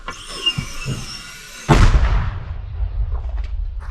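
A sudden heavy boom of a mortar firing at close range breaks a quieter outdoor background, followed by a long rumbling decay with scattered crackles.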